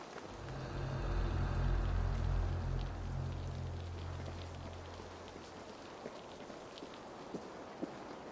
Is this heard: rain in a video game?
yes